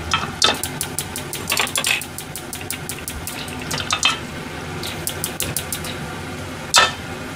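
Metal cookware clanks and scrapes in a kitchen near running water, a large frying pan being handled with a string of sharp clinks and knocks, the loudest single clang near the end.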